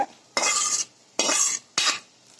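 Crab meat is stirred into masala in a pan with a utensil, making three separate scraping, sizzling strokes with short pauses between them and no voices.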